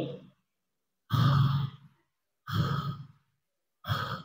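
Three deep, slow demonstration breaths imitating a dying person's breathing shifting from nose to mouth, each a long heavy sigh-like exhale separated by silent pauses, close and clear with no talking.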